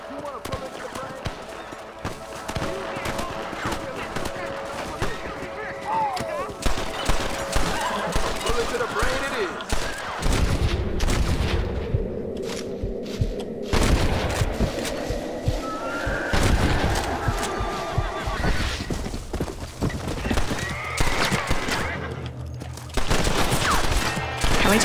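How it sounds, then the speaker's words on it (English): Gunfire rings out in a Western video game, Red Dead Redemption, mixed with loud horse whinnies, hoofbeats and other game effects across a busy, continuous stretch, with a person talking over parts of it. "I hear a lot of shooting"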